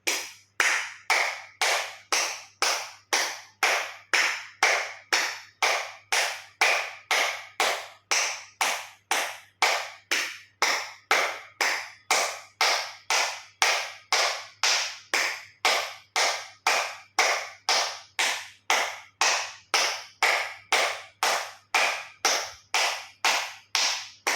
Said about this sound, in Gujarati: એક્યુપ્રેશર તાળી પૂરેપૂરા હથેળી અને આંગળા અંગૂઠા બધું ટચ થાય રીતે જોરથી 50 વખત તાળી આપીશું